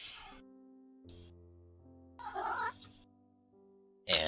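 A pet cat meows several times, close and fairly quiet, its short cries separated by pauses over a faint steady background hum.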